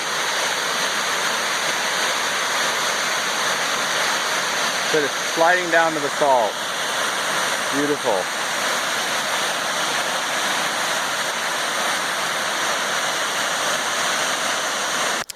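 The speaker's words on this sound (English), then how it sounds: "There's a waterfall over here." A mountain waterfall on a hiking trail in the Goat Rocks rushes in a constant loud roar, while a person speaks briefly over it partway through.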